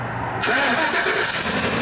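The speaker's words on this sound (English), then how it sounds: "For sure the car running now, for sure." A car engine catches and runs after a ground strap repair, jumping from quiet to a steady, loud close idle roar that holds to the end.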